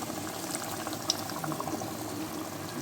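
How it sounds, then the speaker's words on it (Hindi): Milk goes into a simmering spinach and potato curry, producing a continuous bubbling, gurgling liquid sound that stays even and close throughout. "फिर मैं इसमें दूध डालूँगी 1 गिलास भर के।"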